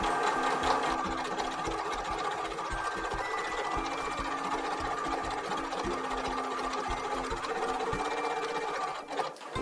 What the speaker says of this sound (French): je couds doucement à 1 ou 2 mm du bord pour fixer mon biais